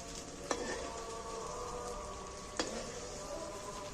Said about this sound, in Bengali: আর তেলটাও খুব গরম হয়ে গেছে। আমি এর মধ্যে গোটা ডিমটা দিয়ে দিচ্ছি।